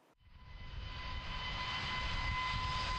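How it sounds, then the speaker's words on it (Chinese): A passenger airplane flying from Beijing to Pyongyang, its engine roar rising steadily in the first second and then holding as a loud, even drone with a faint whine on top, with no voices. "我们的飞机已经离开北京，前往平壤"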